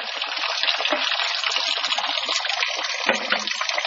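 Water draining from the bevel gear housing of a 1939 Caterpillar D4 tractor, a steady, close gushing trickle that runs continuously with a brief surge near the end.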